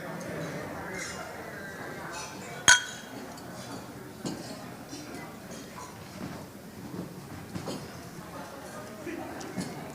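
A single sharp clink of glasses during a toast at a Rotary club 100th anniversary celebration, heard once against a steady murmur of a crowd talking in a hall.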